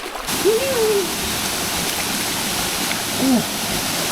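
Steady broadband rush of a mountain stream and waterfall at Jet Kot waterfall in Saraburi, Thailand, continuous and fairly loud throughout, with a couple of brief faint tonal sounds over the water.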